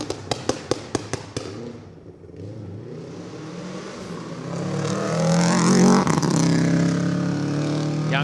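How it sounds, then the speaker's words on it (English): Subaru rally production car passing on a gravel stage: rapid clicks and taps open, then the engine approaches and rises to a loud, close high-revving pass with gear changes before fading slightly. "The Subaru sounds really good."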